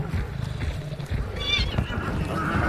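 A horse whinnies in the video game Hunt: Showdown, a short rising neigh in the middle of the clip over low rumbling game ambience and footsteps, with a voice talking in the background.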